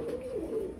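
A pair of big fancy pigeons cooing, one soft low throaty coo rolling briefly and close by in a quiet setting.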